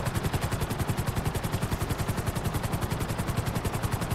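Sparrow helicopter flying in GTA 5 Online, a fast, even rotor chop pulsing loud and close without a break, with no one talking over it.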